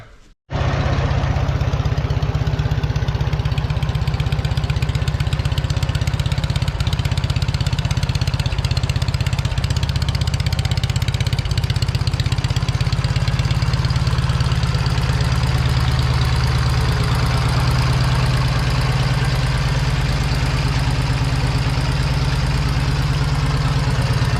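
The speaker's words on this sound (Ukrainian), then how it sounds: "МТшечка завелась з другого ТК" An MT Dnepr-11 motorcycle engine catches and settles into a steady, loud, throbbing idle close by, running continuously and alone for over twenty seconds.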